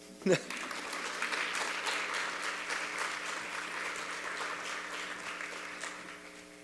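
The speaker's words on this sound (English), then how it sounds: "Y'all can applaud again." An audience at a talk on slavery applauds a speaker's introduction with steady, moderately loud clapping that begins sharply, holds evenly and gradually tapers off.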